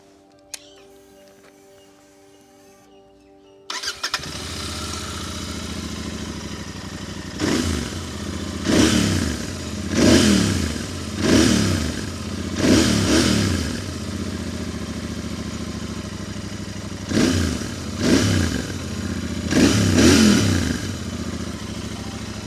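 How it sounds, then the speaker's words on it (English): Royal Enfield Interceptor 650 twin-cylinder motorcycle starts, then its exhaust note rises and falls through a series of loud, repeated revs close by, with a low burbling idle between blips. "first let's listen to the exhaust note of this twin cylinder Royal Enfield"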